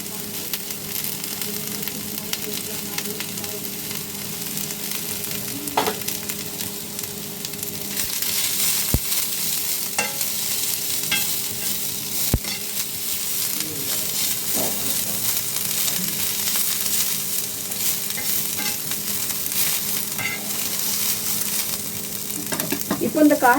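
Beans and chopped cabbage stir-fried in a pan for egg fried rice, a steady loud sizzle with occasional sharp scrapes and clinks of a spoon stirring the vegetables.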